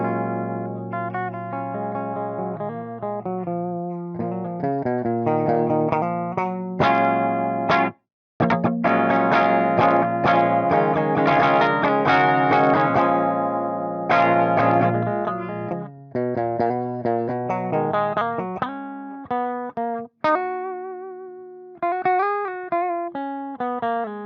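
Electric guitar played through effects including chorus and distortion: a long sequence of strummed chords and sustained notes, loud and close, with a few brief pauses between phrases.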